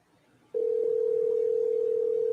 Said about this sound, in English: It's the phone's ringing.